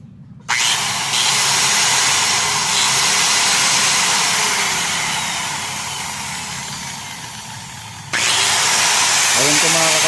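A carpentry power tool's motor whirring loudly and steadily while its sparking carbon brush is tested, starting abruptly after a brief silence, winding down slightly, then surging again near the end.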